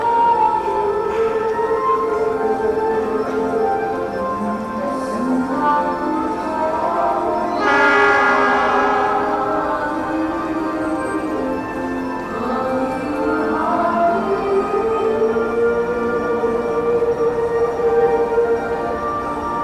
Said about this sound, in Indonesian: ini dia kereta api Sawunggal Utama malam tujuan Kutoarjo